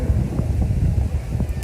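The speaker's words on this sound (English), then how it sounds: "It's getting windy." Gusty wind blowing outdoors buffets the microphone with a loud, low rumbling roar that rises and falls continuously, a few faint rustles above it.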